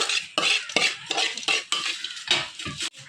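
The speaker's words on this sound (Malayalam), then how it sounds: "നമ്മൾ ഈ വറുത്ത തേങ്ങ നമ്മളൊരു പാത്രത്തിലേക്ക്" A metal spoon scrapes against a pan in quick, repeated strokes, about eight in a row, transferring roasted coconut into a vessel, close up with no talking.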